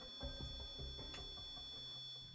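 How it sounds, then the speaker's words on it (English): A paranormal investigation pod device sounds an alarm indoors in a house, a faint steady high-pitched electronic tone running throughout beneath soft thumps and background noise. "We witnessed the pod signal alarms a number of times that evening, in the scariest moments."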